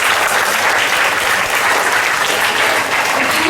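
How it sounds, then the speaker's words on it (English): Dense, steady clapping fills a school assembly hall as a large group of students and staff applaud continuously at close range, with no speech over it. "Big round of applause."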